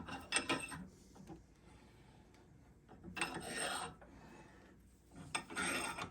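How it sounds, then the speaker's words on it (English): Three separate bursts of metallic creaking and rasping as spacers are forced out of a Sherco 290 trials bike arm in a vise, with quieter pauses between. "I'm gonna put these in a vise and at least try to pop these spacers out."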